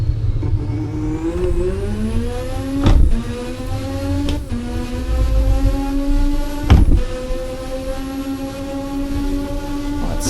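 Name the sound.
Thrustmaster TH8A shifter clattering through gears, Assetto Corsa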